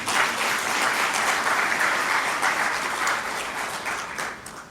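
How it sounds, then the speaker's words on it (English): An audience applauds the team at a corporate sustainability report launch and anniversary celebration, with dense, steady clapping that fills the room and tapers slightly toward the end, without speech. "Can we clap for Safaricom team?"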